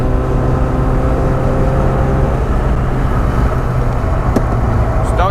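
A worn-out drift car slides sideways around a corner on a track. Its engine roars loud and constant, close to the microphone, with a couple of sharp clicks near the end.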